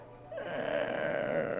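A voice mimics a repeating hiccup-like call, a tonal, slightly croaky sound drawn out over a second and a half, moderately loud and close, with no other talk.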